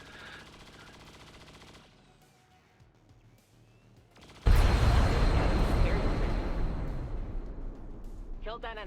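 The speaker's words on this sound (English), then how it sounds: "Always the spoiler explosion before the first shot is even fired." An explosion in the video game XCOM 2 Long War of the Chosen erupts suddenly as a loud, booming blast after quieter game ambience, then rumbles and slowly decays.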